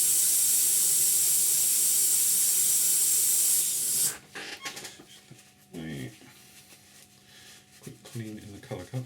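Airbrush blasting thinners through the colour cup for a quick clean, a loud steady hiss for about four seconds that cuts off abruptly, followed by quieter handling noises and a voice talking.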